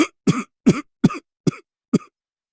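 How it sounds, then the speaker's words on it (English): Six sharp, separate coughing and choking bursts from a wolf in a story sound effect, each rough and throaty, evenly spaced in a rapid sequence with silence between, loud and close. "He coughed, choked,"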